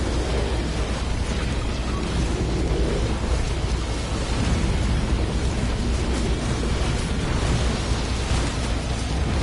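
A continuous roaring explosion rumbles in the video game Risk of Rain 2, dense and loud throughout without a clear break.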